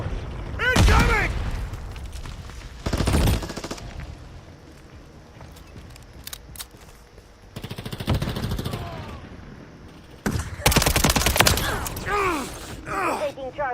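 Video game battle sounds with repeated loud blasts and bursts that fit gunfire and grenade explosions. The heaviest bursts come near the start, around three seconds, around eight seconds and after ten seconds, with quieter stretches between them and voice callouts mixed in.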